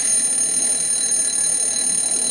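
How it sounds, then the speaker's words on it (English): A loud, harsh building fire alarm rings continuously, a piercing steady electronic tone that fills the space at constant volume with no voices. "harsh-sounding alarm rings out across the entire building."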